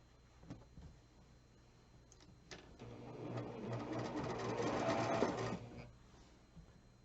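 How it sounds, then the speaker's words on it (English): Sewing machine stitching quilt rows together for a Valentine mystery quilt, a steady mechanical whir that builds and runs for several seconds at close range, with a few light clicks before it starts. "last thing we have to do is sew the rows together"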